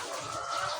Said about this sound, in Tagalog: mga alaga kong manok